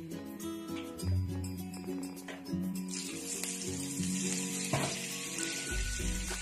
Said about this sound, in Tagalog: Maglagay lang tayo ng konting mantika. Tapos, lagyan natin yan ng butter.